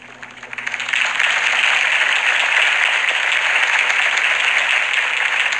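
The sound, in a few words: applause in video game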